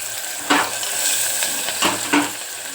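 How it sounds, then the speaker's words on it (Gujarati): Onions sizzle steadily in hot oil with half a spoon of turmeric, a tempering for stuffed spiny gourd curry, while a spoon scrapes and stirs the pan in three short clinks. "અડધી ચમચી હળદર અને હું કાંદાથી વઘારું છું."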